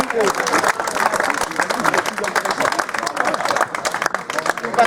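Applause and cheering from a crowd at a French railway workers' SNCF demonstration in 2023, a dense burst of many hands clapping close by, mixed with voices.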